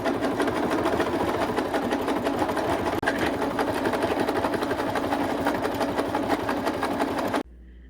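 Close and loud, a sewing machine zigzag-stitches a rolled sleeve hem on a thrifted crochet-look mesh garment, humming continuously at a fast, even pace before stopping abruptly.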